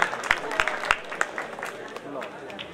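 A crowd at a political rally claps for an arriving Congress party candidate in Hoshiarpur, with scattered hand claps in an uneven rhythm under a voice talking over them.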